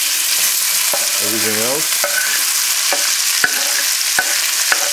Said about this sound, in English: So we slide the beef in. You can hear the heat.